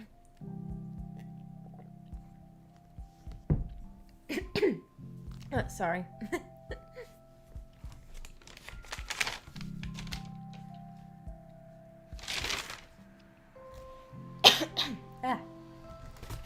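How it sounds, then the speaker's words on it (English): Several sharp coughs burst out at intervals between stretches of a person talking, fairly close and loud. "I'm sorry, I keep coughing."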